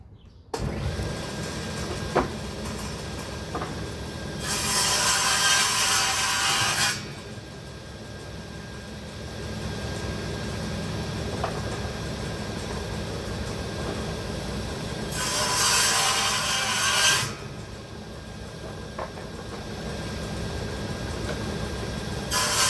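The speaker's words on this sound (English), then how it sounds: "I've had to remove the guards off the table saw because I have to actually run this stuff on the edge" A table saw with its guards removed cuts kerfs into the edges of boards, a continuous motor hum rising into two loud, harsh cutting passes several seconds apart.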